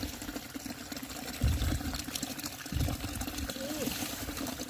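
Water trickles and flows steadily outdoors through a rice field, a low continuous gurgle with a couple of louder surges, no voices.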